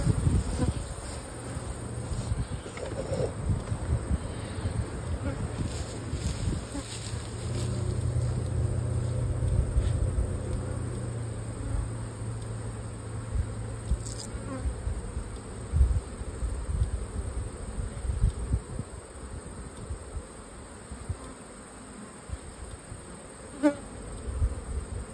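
Honeybees buzz steadily around beehives in an apiary, a dense continuous drone of many insects that stays fairly loud and close throughout, with no talking.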